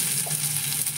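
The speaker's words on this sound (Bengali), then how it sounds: "আর এই যে জিরে ফোড়ন দিলাম, দিয়ে দিলাম" Cumin seeds, added after a whole chilli, sizzle steadily in hot oil while tempering for a paneer dish. A continuous close frying hiss with no break.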